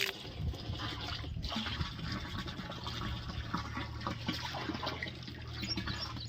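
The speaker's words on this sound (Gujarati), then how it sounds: "જો મિત્રો પાણી ભરવાનું ચાલુ છે" Water runs and splashes steadily into earthen pots with a gurgling, rising fill, mixed with clatter and low background noise.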